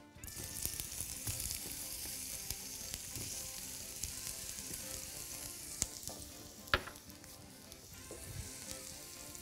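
Julienned onion frying in a little oil for a curried shrimp sandwich, a steady, soft sizzle with occasional stirring clicks and one sharper tap, no voices.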